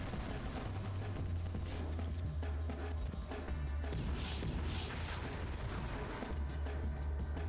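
Heavy booming missile launcher blasts and crashing impacts in the video game Ghost in the Shell: Stand Alone Complex, over a continuous low rumble, loud and dense, explosions going off in quick succession.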